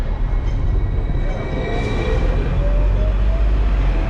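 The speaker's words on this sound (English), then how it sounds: "look at how close we're going to go by this other tram" A loud, steady rumble of a Hong Kong tram running close by, with wheel noise and faint high whines rising over the continuous roar.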